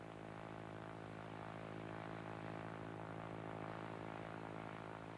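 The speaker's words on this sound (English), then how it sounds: "The aeroplane turns." A propeller aeroplane holds a steady drone through a banked turn, its engine hum even and continuous with strong low harmonics, heard faintly and alone.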